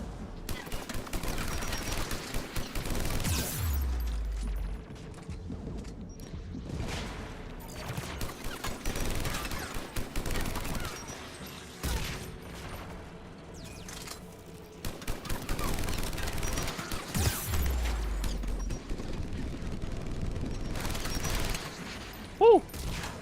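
Gunfire in the Mass Effect 3 video game, heard as repeated bursts of shots with short pauses between them over a continuous game soundscape.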